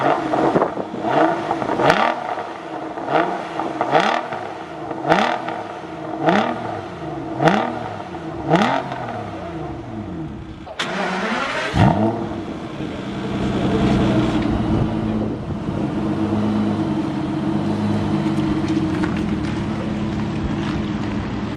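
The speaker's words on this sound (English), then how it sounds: "as soon as you stop revving it, it cuts out" A damaged Aston Martin DB9 engine revs repeatedly in a regular series of short blips, each rising and falling, then settles into a sustained higher-revving drone after a sharp change; loud and close with no talking.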